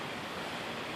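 A river runs near a backpacking campsite in the woods, giving a steady, dense rushing wash that holds constant throughout with no voices over it.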